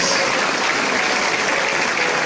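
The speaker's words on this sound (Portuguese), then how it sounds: "Você pode aplaudir Jesus por isso." A church congregation claps in steady, dense applause that fills the room for a couple of seconds without pause.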